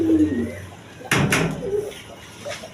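Pigeons in a Bangladeshi pigeon sale, a mated pair, give soft low coos at the start and later, with a sharp knock partway through and someone talking over it.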